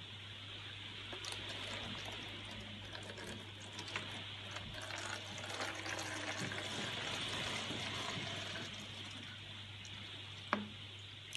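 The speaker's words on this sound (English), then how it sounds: "I'm going to fill it with some water." Water pouring into a bottle for a sensory activity, a steady trickling, gurgling flow lasting several seconds at close range, ending with a small knock.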